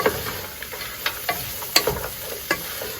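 Vegetables and eggs sizzle in a pan for egg fried rice in a camper kitchen, a steady soft frying hiss broken by intermittent scraping and tapping of a utensil stirring.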